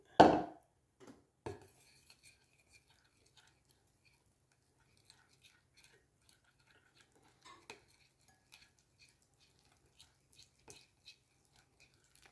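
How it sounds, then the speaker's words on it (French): A spoon stirs sweet and sour chicken sauce with added water in a pot, one louder scrape at the start followed by faint, scattered clinks and swirls, close and otherwise quiet. "De l'eau et mélanger."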